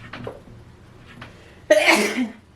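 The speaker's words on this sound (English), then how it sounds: "I have to sneeze." A single sharp sneeze bursts out after a brief quiet intake of breath, loud and close, then fades quickly.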